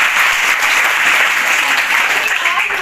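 A crowd at a school talent competition award ceremony applauds, a steady wash of many hands clapping, loud and continuous with no pauses.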